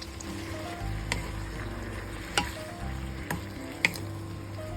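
Mung bean sprouts and liquid seasoning stir-fry in a pan, a steady soft sizzle broken by a few sharp clinks of the utensil.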